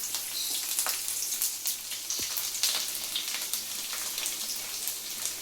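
Fenugreek and garlic sizzle in hot oil for a pickle, a dense steady crackle and spatter that stays continuous throughout with no voices.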